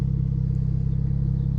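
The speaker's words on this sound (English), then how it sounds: "you can hear the engine rumbling in the background" A 2007 BMW 335i convertible with twin exhaust tips idles nearby, giving a steady low pulsing rumble that stays even throughout.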